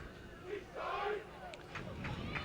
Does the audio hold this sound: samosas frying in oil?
no